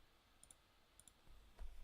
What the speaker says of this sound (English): I'm just clicking through stuff